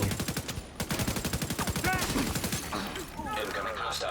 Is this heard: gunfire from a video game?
yes